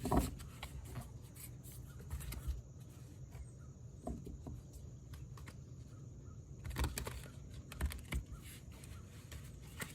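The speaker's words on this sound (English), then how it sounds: "Some shuffling, of course." Tarot cards are shuffled in soft, irregular riffles and flicks close by, quiet and steady, with no talking.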